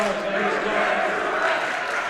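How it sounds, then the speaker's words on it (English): Crowd noise from basketball fans in a gym during a varsity boys game, a dense steady roar of voices as a cheer tries to get going, with a commentator talking over it. "As Legend fans try to start a cheer, not sure what they're saying though."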